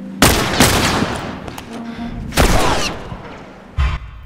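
Gunshots in The Last of Us Remastered video game on Grounded difficulty during the Power Plant ambush, with loud, close blasts, one at the start, another about two seconds later and a third near the end, each trailing into a long echoing decay.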